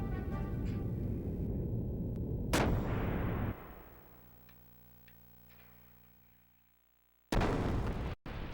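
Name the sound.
ship gunner firing gun blasts in the video game Xenogears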